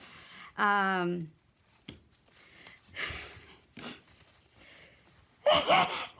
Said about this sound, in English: I'm probably going to sneeze in a minute.